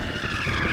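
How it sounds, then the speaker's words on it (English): A BMW M8 Gran Coupe Competition in two-wheel drive mode skids its tyres in a brief, continuous rough screech with engine noise beneath, loud and steady throughout. "Then you can do some skids"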